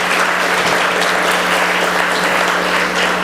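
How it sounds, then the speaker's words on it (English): An audience at a space day event applauds steadily and loudly for the whole stretch, a dense, even wash of clapping from a large crowd with no pauses. "Let's get a round of applause for that."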